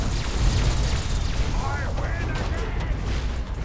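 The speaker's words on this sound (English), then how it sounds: "Those explosions kinda seem unnerving" Deep booming blasts and rumbling explosions from the video game Fallout 3 roll through a dense, noisy battle din, with a few whistling tones sweeping by.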